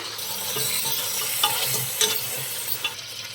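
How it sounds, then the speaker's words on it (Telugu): Mutton pieces frying in a pan for paya soup, with a steady sizzle and occasional stirring clinks and scrapes, moderately close and without talk. "ముక్కలు బాగా ఫ్రై చేసుకోవాలి"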